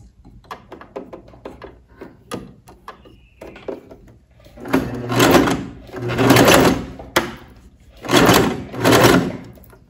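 A sewing machine stitches a straight seam on a blouse, with short irregular mechanical clicks early on, then several longer bursts of steady whirring stitching, close-up.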